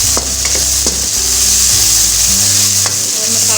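Ginger garlic paste sizzles and fries steadily in hot oil for a Pakistani stuffed tinda dish, with a continuous crackling hiss and a few soft stirring scrapes near the pan.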